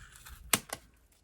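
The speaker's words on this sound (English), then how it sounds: "you're going to get your scissors in between, and you're just going to do a little bit at a time" Sharp scissors snip yarn wound on a Clover pom-pom maker in two quick, crisp close-up cuts, quiet and without talk.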